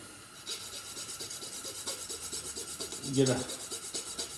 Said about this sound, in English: Take your farrier's rasp